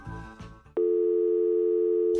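A telephone busy signal follows a brief rustle of handling: one long, loud steady electronic tone that holds for well over a second before cutting off.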